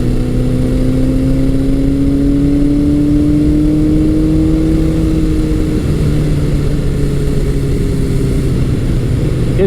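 A 1982 Suzuki GS1100G motorcycle engine fitted with a Delkevic exhaust pipe runs close by, its smooth, steady drone rising gradually in pitch as the throttle is rolled on from low RPM, with no voices.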